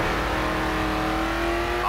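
A car engine in the racing game GRID holds a steady, loud high-revving drone at full throttle on a final straight, with a sustained tone that climbs slightly near the end.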